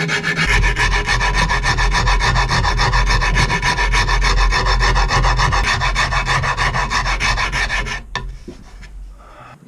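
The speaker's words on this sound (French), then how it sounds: "je vais venir affleurer les 2 morceaux que j'ai collés avec ma petite scie japonaise à affleurer" Steady rasping strokes of a fine-toothed Japanese flush-cut saw trimming two glued wooden pieces of a guitar head flush, close and loud, continuing rhythmically for several seconds before stopping abruptly.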